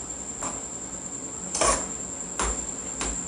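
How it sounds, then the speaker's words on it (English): Onion and pepper stirred in a cooking pot for Nigerian vegetable soup, three or four brief metallic scrapes and taps of a spoon against the pot at close range over a steady high whine, with no talk. "Stir it up."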